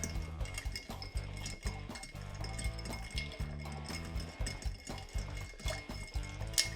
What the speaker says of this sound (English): And now we stir.